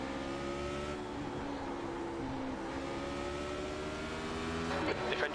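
Radical race car engine in the iRacing sim at Spa, droning steadily at high revs with long rising harmonic tones, a sustained loud whine that swells slightly near the end.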